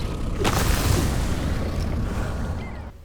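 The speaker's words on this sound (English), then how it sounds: "Bomb bug landed right on that one." A bomb bug explodes in the video game Enshrouded. One loud boom bursts near the half-second mark and settles into a heavy, rumbling roar that fills the clip before cutting off, with no talk.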